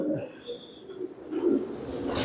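Pigeons coo softly at close range in short, low calls, with some rustling and a voice in the background.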